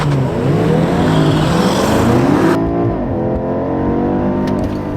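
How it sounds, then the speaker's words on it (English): A BMW M5 in all-wheel-drive sport mode launches hard from a standstill, its engine roaring loud and close as it revs and pulls through rising gears, the note sweeping upward and then dropping into steady acceleration. "I'm going to do a launch in 4-wheel drive sport"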